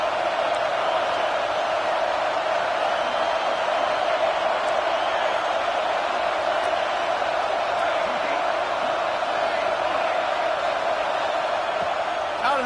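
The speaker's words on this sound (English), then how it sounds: "This crowd knows when to bring it." Stadium crowd noise from a College Football 26 dynasty game featuring the Texas State Bobcats: a steady, continuous roar that holds at an even level throughout, with a commentator's voice over it.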